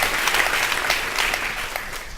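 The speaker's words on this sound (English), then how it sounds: "Give her a round of applause." Audience applause at a live talk event, a dense, steady wash of clapping that stays loud and even from start to finish.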